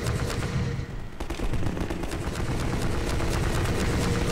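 Rapid, dense gunfire in the video game Half-Life 2 fills the clip, with sustained bursts of loud automatic shots over a busy, constant game soundscape.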